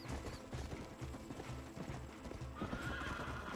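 A horse in the Red Dead Redemption video game gallops with rhythmic hoofbeats and lets out a whinny, heard at moderate level with game ambience behind.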